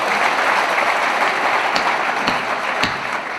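Audience applause at a Hindi kavi sammelan poetry recital in Indore, a steady dense wash of many hands clapping throughout, fairly loud and close, with a few sharper claps standing out near the end.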